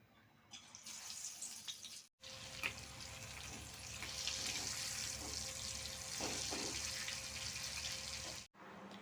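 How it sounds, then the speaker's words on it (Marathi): Batter-coated prawns for koliwada frying in hot oil, a soft, continuous bubbling sizzle heard fairly quietly, with two brief cuts where the sound drops out. "आता आपण गरम तेलामध्ये फ्रॉन्स फ्राय करून घेऊया"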